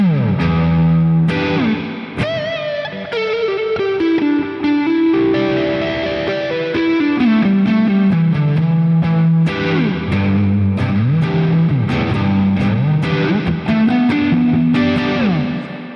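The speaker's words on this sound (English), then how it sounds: "So that's a really nice bread and butter distortion that you can use pretty much for any gig" Heavily distorted electric guitar through an Eventide H90 distortion effect pedal plays a continuous riff with chords and sliding notes, loud and saturated, with no talking.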